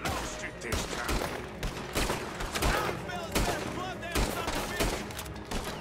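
Gunfire in Red Dead Redemption 2 during a jailbreak in a town: a rapid string of sharp shots, some overlapping like a fusillade, over music and game ambience, with speech-like sounds mixed in.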